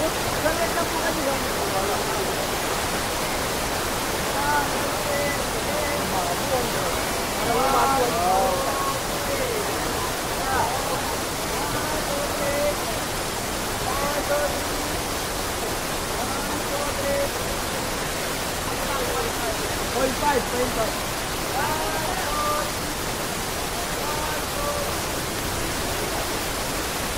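Ditumabo Mother Falls in San Luis, Aurora thunders with its strong river current, a loud, continuous, close-up roar of rushing water that fills the whole stretch, with faint voices barely showing through.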